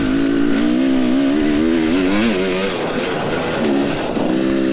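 A motorcycle climbs a hill during a senior motocross race at Moonshine Holler in Cadiz, Kentucky, its engine droning loud and close, with the pitch rising and falling as the rider works the throttle.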